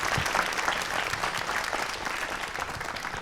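An audience at a Marathi youth talk event breaks into strong, sustained applause, a dense, continuous patter of many hands clapping at an even level.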